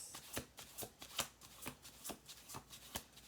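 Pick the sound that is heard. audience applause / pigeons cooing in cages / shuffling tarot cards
shuffling tarot cards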